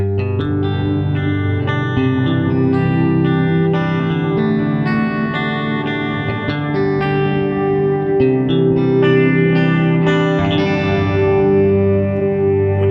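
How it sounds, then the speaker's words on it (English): A VFE Yodeler guitar pedal set to infinite reverb sustains ringing guitar chords, with each strum swelling into a dense, endless wash that layers over the next, loud and continuous with no talk. "That basically is a reverb that waits forever."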